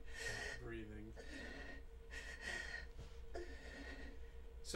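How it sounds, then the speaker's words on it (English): Looped breathing effect from the Saturn game D, a single recorded breath cycle of gasping inhales and sighing exhales repeating softly, with people talking over it. "So they got her to do one breath cycle and then they just repeated it"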